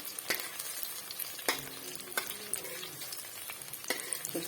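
Drumstick leaf fritters fry in a pan of hot oil, a steady close sizzle with sharp spatula taps and scrapes breaking through every second or so, no voices.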